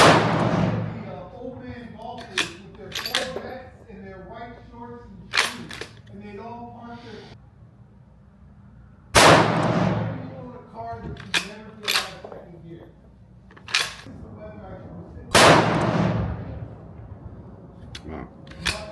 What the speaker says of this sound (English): Alright, so now we're shooting for groups here.